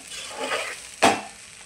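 Fried rice with vegetables being stir-fried in a pan over high flame, a steady soft sizzle with scraping stirs and one sharp louder clatter of the spatula midway.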